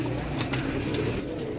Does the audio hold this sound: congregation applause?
no